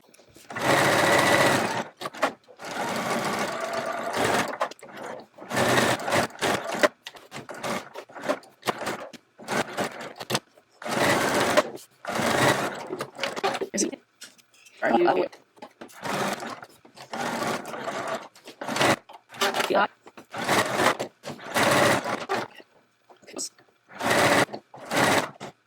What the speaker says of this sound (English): So let's go to our sewing machine and get those sewn up.